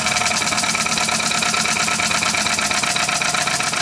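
A PM Research 2A model steam engine running steadily, a continuous rapid chuffing and mechanical clatter that stays loud and even throughout, with no voices.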